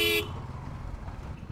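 A car horn honks in a short loud burst at the very start, cutting off into the rumble of road traffic on a congested side street clogged with CNG auto-rickshaws, heard from a motorbike.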